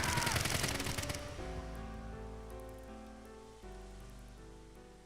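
Rapid gunfire crackles loudly for about a second in AI: The Somnium Files – Nirvana Initiative, then cuts off as sustained musical tones take over and fade slowly.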